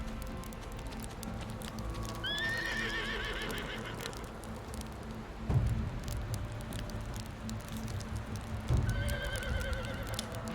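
A horse whinnies in bursts from a ranch in the video game Windstorm, with two sharp hoof thuds on the ground and a steady rustling outdoor ambience behind.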